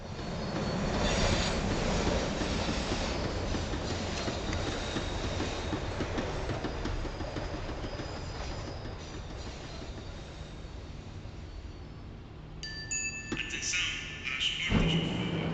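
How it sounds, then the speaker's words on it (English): A tram in the video game Max Payne 3 slows down, its steady rail rumble and clacking wheels fading toward a stop, followed by a few sharp metallic squeals and clanks near the end. "The tram was slowing down, and I'd only just gotten on board."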